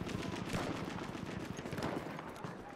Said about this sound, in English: I hear gunfire. I don't see where it's coming from.